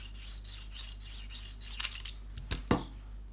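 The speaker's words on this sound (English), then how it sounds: "give it a swipe, have a look. Yep, I'm sharpening to the edge." A food processor blade of cheap metal is sharpened to its edge, with faint scraping swipes over a low hum and a couple of sharper rasping strokes near the end.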